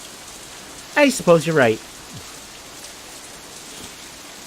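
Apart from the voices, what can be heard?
rain falling during a storm, visual novel sound effect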